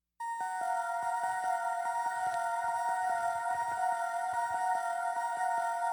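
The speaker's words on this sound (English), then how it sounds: "it's a bell from Nexus called Amethyst" A Nexus Amethyst bell synth plays a sustained melody of ringing, bright bell tones with a string of soft repeated plucked notes underneath, clean and steady throughout with no voices.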